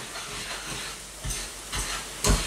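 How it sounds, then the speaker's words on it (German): A pot of maize porridge is stirred, with a soft hissing simmer and three dull scraping strokes of the spoon that grow louder toward the end. "So, Leute, ich muss das hier immer wieder umrühren"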